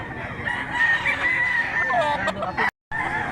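A young silver grey gamecock stag crows nearby in Mantalungon, Cebu, one loud drawn-out call with rising and falling tones that breaks off abruptly.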